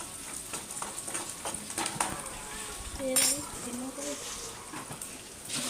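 Moong dal stirred in a pan, with steady scraping and light clinks of a metal spoon against the pan, and faint voices in the background.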